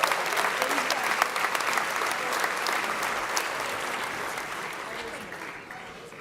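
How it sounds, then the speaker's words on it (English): An audience at a George Mason University 50th anniversary celebration applauds faculty and staff, a dense sustained wash of clapping from many hands that slowly fades toward the end. "Let's have one more round of applause for all of Mason's faculty and staff."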